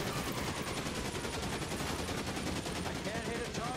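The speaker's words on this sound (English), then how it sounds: "Why is the machine gun fire still happening?" Sustained rapid machine gun fire in the video game LA Noire, a dense continuous rattle of shots at steady loudness filling the whole stretch, with a voice faintly underneath.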